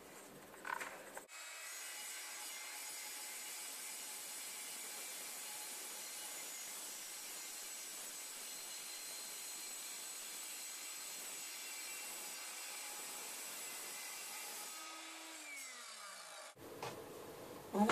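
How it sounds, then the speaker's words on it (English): An Evolution miter saw cutting metal, a loud sustained high-pitched whine and grinding screech that starts abruptly, holds steady for about thirteen seconds, then winds down with a falling tone before a brief clatter. "It's about the first time cutting some metal with an Evolution miter saw."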